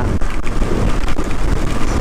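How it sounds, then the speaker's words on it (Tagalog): Heavy rain pours down steadily during a motorcycle ride on a Honda CB500X near Lucena, a dense constant hiss with low rumble, loud and continuous throughout. "Bumubuhos na naman ang ulan."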